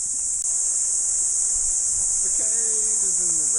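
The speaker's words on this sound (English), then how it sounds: "Cicadas in the rain." A steady, high insect drone of cicadas singing in jungle rain runs throughout. A faint voice rises briefly near the end.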